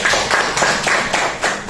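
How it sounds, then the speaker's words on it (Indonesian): A small classroom group clapping for a student named Evan: a brief, steady patter of hand claps with a few rhythmic swells, close and moderately loud, with no talking over it. "Kasih tepuk tangan buat Evan"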